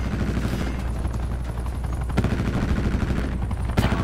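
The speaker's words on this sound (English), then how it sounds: "Enemies have destroyed your attack chopper." In a video game an attack helicopter is shot down amid sustained gunfire, rapid loud bursts and rattling shots layered over a droning rotor, with a couple of sharp impacts standing out.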